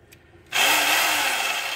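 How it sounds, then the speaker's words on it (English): A power drill with a large bit bores into the hood of a 1988 Dodge Dakota Sport during a hood pin install; after a quiet start the motor kicks in with a sudden loud whir that holds steady to the end. "go ahead and drill it with the big bit on this side so I can get it through"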